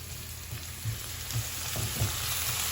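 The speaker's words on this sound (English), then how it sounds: "We're gonna let this cook for a little bit till the onions become a little translucent" Onions cook in a pot with a soft, steady sizzle, low and fairly quiet, with a few faint dull knocks from the pot.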